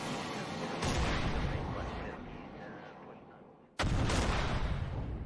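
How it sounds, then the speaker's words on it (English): An anti-ship missile strikes the cruiser Moskva in a naval simulation game: two heavy, booming impacts, the second sharp and sudden after a fading rumble, loud and close. "Another missile's hit."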